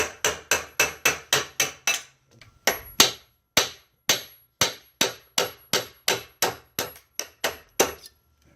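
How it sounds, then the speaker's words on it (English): A hammer drives a roll pin out of a Ford Fox tail shaft housing: about twenty sharp, evenly spaced metallic blows, loud and close, in a steady rhythm with a short pause partway through. "We got to take this little roll pin out so we can get the tail shaft housing"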